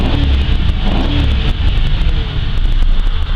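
2006 Ford Crown Victoria P71 Interceptor police sedan engine running and revving, a steady loud low rumble with slight rises in pitch, close by and alone with no talk.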